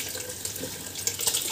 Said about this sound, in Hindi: 15 मिनट पानी बॉईल होने के बाद फ्रेंड, अब मैं इसमें ऐड कर रही हूँ चावल